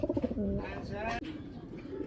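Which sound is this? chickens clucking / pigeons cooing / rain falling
pigeons cooing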